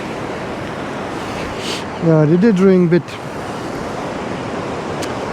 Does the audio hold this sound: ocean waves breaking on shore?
yes